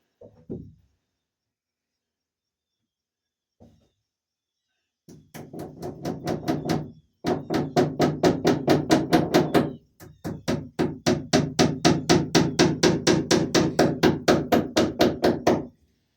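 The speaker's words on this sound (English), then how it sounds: "This sawmill lumber is hard to get it to nail into." A hammer drives nails into rough sawmill lumber at room corners: a few isolated knocks, then long runs of rapid, sharp, evenly spaced blows, loud and close.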